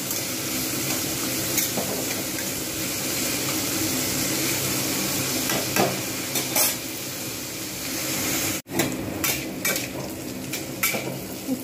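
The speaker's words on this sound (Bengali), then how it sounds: "উচ্ছেগুলো আমি কিন্তু খুব ভালোভাবে ভেজে নেব।" Bitter gourd frying in a pan for a Bengali stir-fry, a steady close sizzle running throughout with occasional clinks and scrapes of stirring, a brief gap near the end, no talking.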